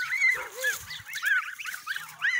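Kholmogory goose goslings out in a field, giving a string of high, rising peeping calls, several overlapping chirps, clear and fairly close with brief pauses between them.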